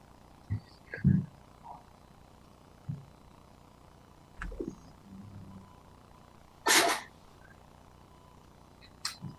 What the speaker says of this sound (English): Bless you there, cat.